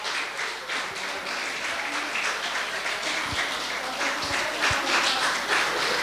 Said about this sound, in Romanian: Aplaudăm și așteptăm